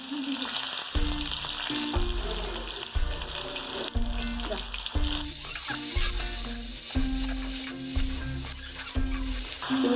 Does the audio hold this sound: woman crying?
no